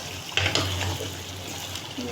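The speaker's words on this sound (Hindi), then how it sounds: "इस तरीके से मसाले को इस तरीके से मिक्स करिएगा चिकन के अंदर" Spice masala is stirred into frying chicken, with a soft sizzle under a couple of quick spoon scrapes and clinks, briefly and fairly close.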